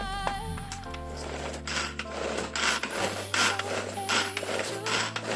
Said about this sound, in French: je vais ajouter donc mes tomates séchées. déjà commencer par les mixer.